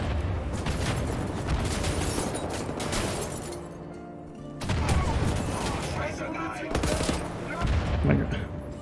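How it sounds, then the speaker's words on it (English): Missiles and gunfire in Wolfenstein: The New Order, a dense barrage of firing and blasts against the player, loud and continuous with a brief lull midway before heavy bursts resume. "Can you stop shooting these missiles at me"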